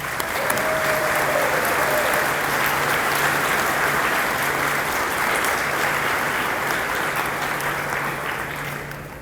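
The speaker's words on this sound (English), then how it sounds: "can we give them all a big round of applause, please?" Sustained audience applause fills an 8th grade recognition ceremony at a school, a dense, steady wash of many hands clapping that holds loud throughout and only slightly eases near the end.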